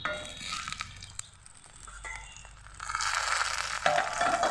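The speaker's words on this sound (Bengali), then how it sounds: "টমেটো দিয়ে পেঁয়াজগুলোকে একসঙ্গে ভালোভাবে ভেজে নেব।" Chopped tomato and fried onions cooking together in a pan, an uneven sizzle that dips in the middle, then swells louder with stirring and scraping toward the end, no speech.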